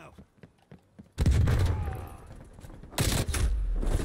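Bursts of automatic gunfire in Call of Duty Black Ops Cold War, loud and close, with a sharp volley starting about a second in and another near the end, after a stretch of quieter scattered noise.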